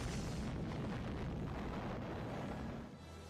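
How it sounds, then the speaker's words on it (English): The atomic bomb explodes over Hiroshima in 1945 as a dense, continuous roaring rumble that stays heavy throughout before easing slightly at the end, with no voices. "On the 6th of August 1945, a bomb unlike any other fell from the skies above Hiroshima"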